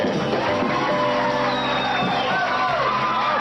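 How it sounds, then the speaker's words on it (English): Canned applause and cheering played from a record on a morning radio show, a dense continuous burst of crowd clapping and whoops with a slightly boxy, recorded quality. "applause record that we have back at the station really sounds good at this time of the morning"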